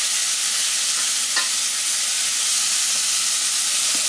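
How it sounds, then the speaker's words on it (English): Chopped onion frying in a pan for yellow split pea daal gives a steady, loud sizzle that runs throughout, with a few soft clinks of stirring and no talking. "I'm going to quickly add my chopped onion."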